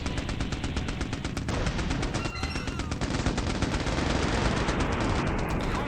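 A .50-cal machine gun in Mercenaries: Playground of Destruction fires a steady, rapid stream of loud shots that runs almost the whole time, with a brief break partway through.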